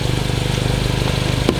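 A Mini car engine idling close by, a steady rapid pulsing chug with a brief click near the end.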